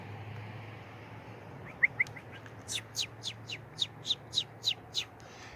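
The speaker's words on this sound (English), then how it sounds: "We got the birds coming to see what's going on." Small forest birds near an old-growth tree stand give a short series of bright, evenly spaced chirps, clear and fairly close over a low steady background hum.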